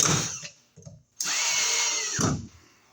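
A power drill drives screws into an electrical outlet box, with two whirring runs, a short one and then a longer steady one whose pitch rises and then falls, close and loud, with small clicks between and no talking.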